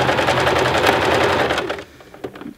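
A home sewing machine stitches bulky tote bag fabric in a fast, loud mechanical run close by. It stops abruptly partway through, leaving a few faint clicks.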